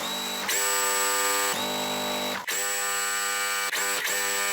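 A home sewing machine stitching quilt block pieces together, its motor whirring loud and close in several steady runs, each broken off by short pauses.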